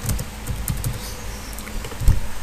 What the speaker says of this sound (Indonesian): Caranya ketik ./Andre kemudian enter.